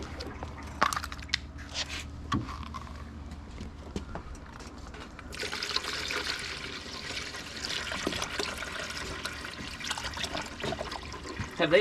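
Distilled water trickles and splashes as it is poured into the cooling system of a Camaro with a turbocharged 3800 engine, a faint, intermittent dribbling that grows busier halfway through, with scattered knocks and clatter.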